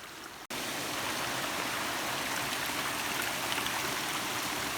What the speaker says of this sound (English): The trail is literally a river.